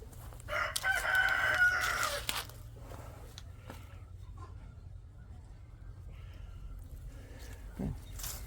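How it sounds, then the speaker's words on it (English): A rooster crows loudly once near the start, then quieter farmyard ambience follows with occasional faint chicken sounds. "that's the roosters and chickens."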